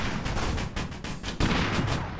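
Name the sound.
auto cannon firing in video game Busted Metal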